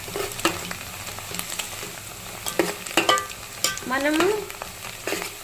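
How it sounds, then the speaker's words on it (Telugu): Onions fry in a pan while a utensil stirs and scrapes through them, sizzling softly beneath intermittent clacks and knocks, with someone speaking briefly at one point. "చూడండి ఎర్రగడ్డలు బాగా ఫ్రై అవుతున్నాయి"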